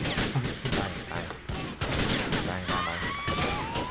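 Rapid bursts of gunfire crackle in Grand Theft Auto, overlapping with engine noise and whooshing effects, loud and continuous.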